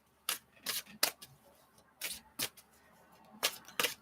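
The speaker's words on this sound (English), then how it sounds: "Let's shuffle this psychic tarot" Psychic tarot card deck being shuffled, a series of short riffling bursts about half a second apart, close and fairly quiet, with no talk over them.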